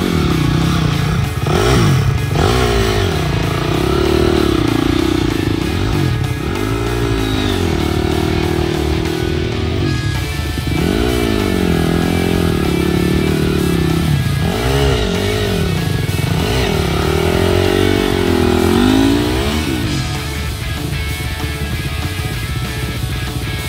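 A Honda CRF dirt bike climbs and descends through Bunyip State Forest, its engine loud and close, revving in repeated rising and falling surges with clatter and scraping from rough terrain.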